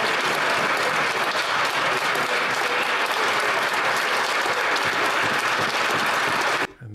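Members of parliament clap in the chamber, a sustained, dense round of applause at even volume that cuts off abruptly at the end.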